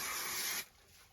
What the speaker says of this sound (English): So for speed, I'm going to spray glue this.